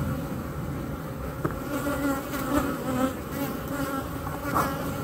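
Honeybees buzz in a dense, continuous drone around an open hive frame during a close-up hive inspection, with individual bees swelling louder as they pass near.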